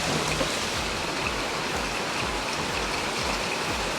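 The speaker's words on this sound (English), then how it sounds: "outside you can see it is raining," Heavy rain falls outside near the Shivasamudra falls, a dense, continuous hiss with a soft rhythmic low patter underneath, steady and moderately loud, with no voices.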